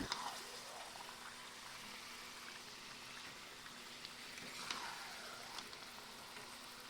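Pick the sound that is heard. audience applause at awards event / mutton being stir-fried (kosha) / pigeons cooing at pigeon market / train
mutton being stir-fried (kosha)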